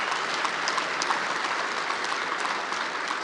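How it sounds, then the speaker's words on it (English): An audience at the GMB union annual congress applauds a Labour leader's speech with steady, dense clapping that fills the hall for the whole stretch, with no voices over it. "That's what people clapped for"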